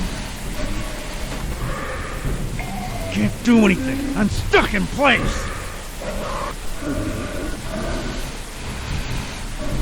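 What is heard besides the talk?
rain and thunder in a video game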